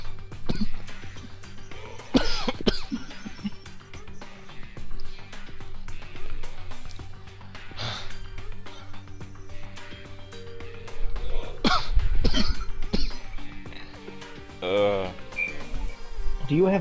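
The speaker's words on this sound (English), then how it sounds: "I have to hear you cough twice." Several scattered coughs and throat clearings, fairly close, interspersed among people talking over a gaming session.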